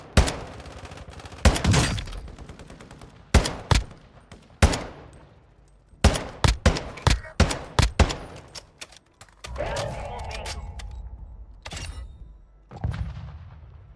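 Bursts of gunfire from Call of Duty Warzone 2.0, with rapid automatic volleys and single loud shots spread across the match, plus a steadier rattling stretch toward the end.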